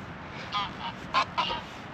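Geese near lodgings in Frankfurt give several short, nasal honks in an irregular cluster, moderately close, over a faint steady background, without talk.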